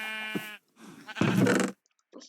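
Sheep bleat in short, wavering calls in a Minecraft-style Sky Block game, one thin bleat then a louder, fuller one, clear and close with brief gaps between.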